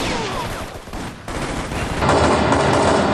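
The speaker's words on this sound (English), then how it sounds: "you can hear the reverb effect that makes this room sound somewhat big" Rapid bursts of gunfire from the game Shadow Ops: Red Mercury ring out loud and sustained, each shot trailing into a large-room reverb, the density swelling near the end.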